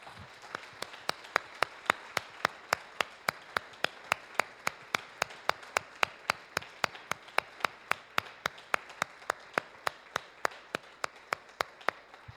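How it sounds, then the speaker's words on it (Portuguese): A church congregation claps in steady unison, sharp even beats about three per second for the whole stretch, with no talking over it. "Vamos dar uma salva de palmas para Jesus"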